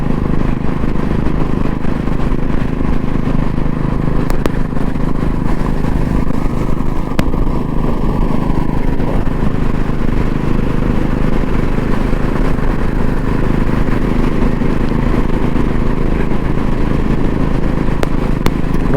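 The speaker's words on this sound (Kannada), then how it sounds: "ಹೆಂಗೆ ಓಡಿಸ್ತಾವನೆ ಬೈಕ್ನ, ಮಾಡಿಫೈ ಮಾಡಿಬಿಟ್ಟಿದ್ದಾನೆ ಗಾಡಿನ" A modified motorcycle engine drones loudly and steadily throughout a ride on a hill-station road, with rushing wind and no voices.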